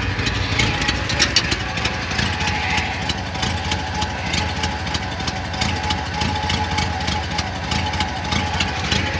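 A Chevrolet Monte Carlo's engine runs at idle after a cold first start in spring, giving a steady, even mid-pitched rumble with a slight uneven pulse, close by and without anyone talking.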